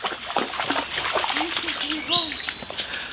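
A dog splashes and sloshes in water, with irregular splatters and trickling mixed with a few short whines or yelps, close by, while a person talks over it.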